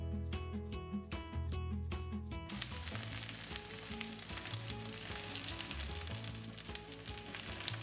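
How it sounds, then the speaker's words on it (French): Endives cooking in a pan, a steady sizzle that continues throughout beneath tonal background music, with no voices. "Pendant que les endives cuisent"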